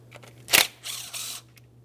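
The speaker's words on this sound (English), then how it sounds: "I'm going to go ahead and remove my 10mm bolt here" A 10mm bolt is worked loose during valve cover removal on the 1.8L four-cylinder engine of a 2003–2008 Toyota Matrix. One sharp close click is followed by a short burst of metallic ratcheting, then quiet.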